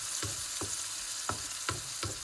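Chopped tomatoes hitting hot oil with cauliflower for a Goan caldin curry, a steady loud sizzle with rhythmic scraping stirs every half second or so, close up and without talking.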